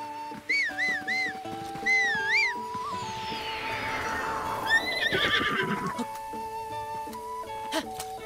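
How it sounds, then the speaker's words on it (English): A horse in Zelda Breath of the Wild whinnies in several rising and falling calls, with clip-clop hooves approaching, over steady game music and rain ambience. "so let me call my horse."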